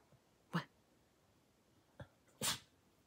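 A dog sneezes close up, two sharp bursts with a small snort between, in an otherwise quiet room.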